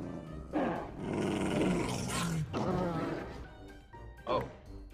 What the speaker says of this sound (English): Those dogs just killed a bear.